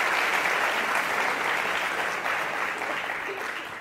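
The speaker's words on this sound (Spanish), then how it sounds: "Un aplauso, por favor." Sustained audience applause in a lecture hall during a talk on digital citizenship and literacy, steady dense clapping that holds loud for several seconds before easing slightly, with no voices over it.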